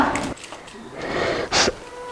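A woman in a Haryanvi drama scene coughs and breathes heavily, with two rough, breathy bursts, one at the start and one near the end, close and fairly loud against low background noise.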